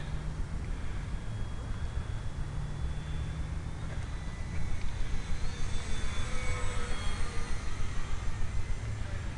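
A continuous buzzing engine drone with a pulsing rhythm that grows louder partway through, a model airplane flying near amid wind noise.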